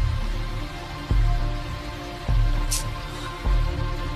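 Rain falls steadily in a dense, even hiss of drops on a surface, close and continuous, with a few soft thuds breaking through.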